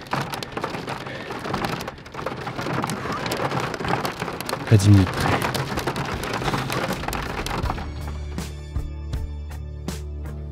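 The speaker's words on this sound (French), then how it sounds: "On voit les éclairs, on entend le tonnerre." Heavy rain pours down steadily with rumbling thunder during a thunderstorm with lightning in the Canary Islands; a brief voice speaks partway through, then the rain softens as a low hum takes over.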